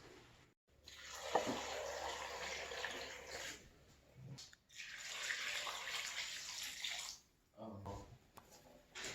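Water runs and pours into a jar in two long stretches separated by brief pauses, a steady splashing rush at close range.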